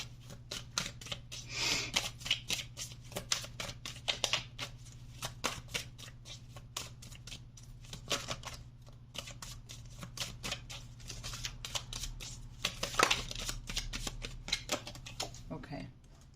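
Tarot cards being shuffled in a series of quick riffles and soft flicks, with a bigger shuffle burst near the middle, fairly faint and close, with a steady low hum underneath.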